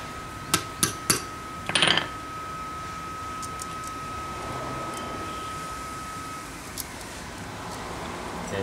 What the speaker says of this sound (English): Insert this and insert riveting tool